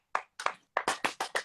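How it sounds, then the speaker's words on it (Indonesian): Seven sharp, separate hand claps ring out close by in an irregular rhythm, clean and alone with no voices. "Tepuk tangan dulu dong guys."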